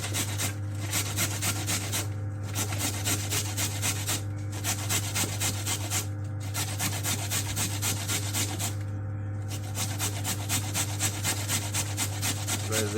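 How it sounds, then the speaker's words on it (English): A carrot is rubbed quickly across a sharp grater in a kitchen, a rapid rhythmic rasping repeated in short strokes over a steady low hum, close and fairly loud. "So the carrot can be grated and it also can be shredded."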